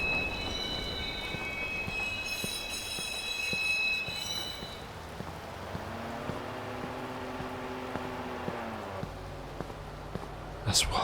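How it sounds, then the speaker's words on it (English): A train pulls into a station in the Watch Dogs video game on a rainy Chicago night: chime-like tones come first, then a rising metallic brake squeal and rumble over steady rain hiss, ending in a sharp clunk. "Southbound train arriving shortly."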